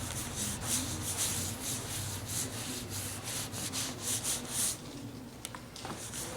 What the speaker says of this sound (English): So we're just going to rub this all in with our gloves.